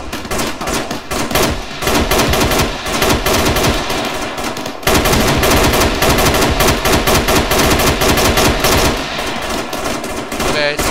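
Heavy automatic gunfire from a vehicle in the military video game ArmA III, dense continuous bursts of loud, close machine-gun fire with brief pauses, filling the whole stretch.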